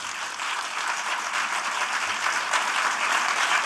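Continuous applause from an audience at a Marathi panel discussion on Mumbai, a dense, even patter of many hands that holds steady and grows slightly louder throughout.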